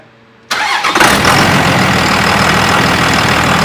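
After brief quiet, the Cummins diesel engine of a 2001 Dodge truck with upgraded injectors cranks and catches, then settles into a loud, steady rumbling idle close by.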